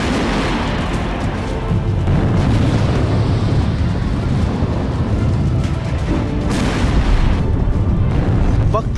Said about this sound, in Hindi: आसमान से टारगेट पर नॉन स्टॉप अटैक और जमीन पर तेज धमाकों के साथ तबाह होते रशियन